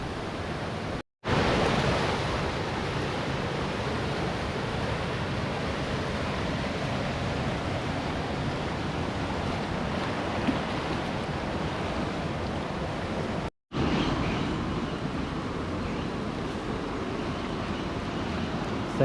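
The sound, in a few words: fast rapid river rushing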